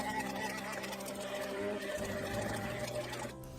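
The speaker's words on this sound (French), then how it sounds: "je vais mixer mon coulis de framboise avec ma confiture de fruits rouges. Je vais brièvement mixer le tout" A blender whirs steadily for a few seconds, briefly mixing raspberry coulis with red fruit jam for a vanilla and red fruit Christmas log cake, its close, even motor hum dropping away just before the end.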